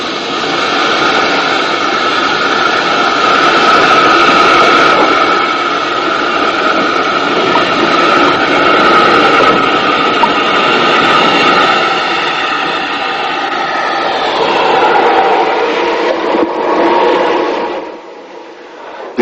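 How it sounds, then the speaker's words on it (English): A steam locomotive shunts engines at a motive power depot on a private UK railway, giving a loud, steady mechanical roar that rolls on for most of the stretch before easing off. "Hallen shunts the locomotives back into the depths of the shed"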